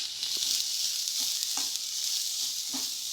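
Ridge gourd peel fries in a pan with a bright, continuous close sizzle, broken by a few light taps and scrapes of stirring, with no talk.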